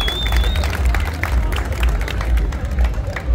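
Applause from a crowd at a charity wrestling match in France, steady clapping from many people mixed with crowd noise and scattered cheers throughout.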